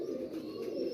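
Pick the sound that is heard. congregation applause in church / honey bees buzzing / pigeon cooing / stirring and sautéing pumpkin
pigeon cooing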